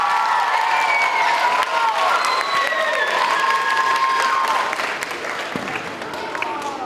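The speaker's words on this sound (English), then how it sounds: "So if we can give Mayor Fisher another huge round of applause" An audience applauds and cheers at a Louisville civic event with a school crowd, dense clapping and high shouts and whoops running steadily and fading slightly toward the end.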